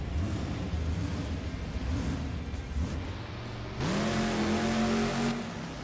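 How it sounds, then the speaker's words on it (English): A monster truck's engine starts up and revs in the BeamNG.drive driving game, at a Monster Jam event in the Tacoma Dome, with a loud steady rumble that jumps into a rising, droning rev near the end. "Eric Swanson starting that truck up."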